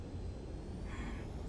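A fighter jet lands on a runway in the video game Ace Combat 7: Skies Unknown, a faint steady engine roar with a brief rising whine partway through and no talk.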